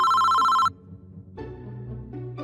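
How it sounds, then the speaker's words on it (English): A phone rings with a bright electronic trill for under a second and then cuts off, followed by quieter background sounds, in a dubbed comic drama. "That's when my phone rang."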